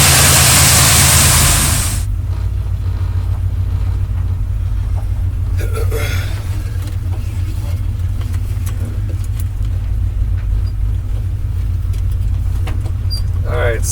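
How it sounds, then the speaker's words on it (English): A 1972 GMC Sierra Grande truck engine idling, heard as a steady low rumble with a loud burst at the start, then the engine runs on evenly and close by. "Truck's idling really well."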